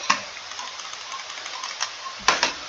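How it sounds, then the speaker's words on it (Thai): Sharp clicks at close range, a few soft ones scattered through and a louder, crisper pair near the end over low background hiss. "เสียงเมาส์เก่าจะเป็นแบบนี้"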